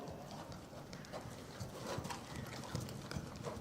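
Soft, irregular clip-clop of a horse's hooves on ground during riding schooling, fairly quiet and steady like an easy, warmed-up walk.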